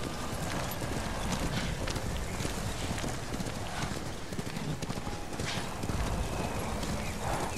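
Horse hooves clip-clop in a steady galloping rhythm in the video game Ghost of Tsushima, loud and continuous, with game ambience and occasional faint voices underneath.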